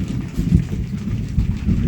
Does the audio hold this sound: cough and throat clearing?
no